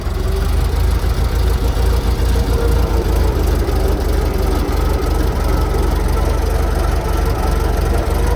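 A 1915 Ford Model T brass-era engine runs steadily and loud, a continuous low mechanical drone with rhythmic knocking and faint squeal, heard from close by while riding with no talk.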